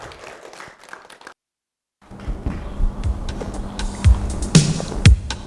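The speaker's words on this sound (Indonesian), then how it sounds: "Kita beri tepuk tangan yang meriah" An audience at a Ramadan school stage show starts clapping after a short silence, with scattered claps that thicken into loose applause mixed with room bumps, at moderate loudness and growing busier toward the end.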